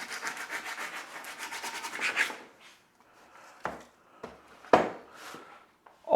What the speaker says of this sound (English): Just use your hand in a very rough grit sandpaper and just rip it down.